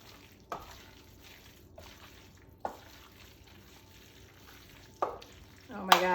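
Smoked BBQ pulled pork tossed with sauce in a bowl: a few soft wet squelches and scrapes spaced a couple of seconds apart over a quiet background, with a louder clatter at the end.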